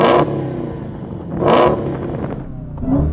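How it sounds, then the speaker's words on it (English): A Dodge Challenger Demon's engine revs in short loud bursts toward a soft limiter, two sharp blips with a third starting, idling roughly in between, close and alone. "So I'm going to rev up this engine."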